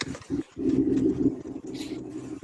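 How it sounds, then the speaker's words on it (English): A Pontiac GTO fitted with a modified LS engine cranks and settles into a deep, steady idle rumble, heard at moderate distance with no revving. "Oh, he's starting a GTO."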